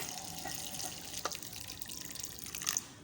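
Water from a kitchen tap runs into a bowl of washed lentils for soaking, a soft steady trickle with a few splashy drips, faint and close.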